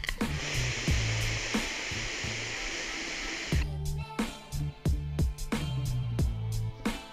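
A steady close airy hiss of a draw on an Aspire Atlantis sub ohm tank set to its widest airflow, lasting a few seconds, then clicks and handling noises with light talk.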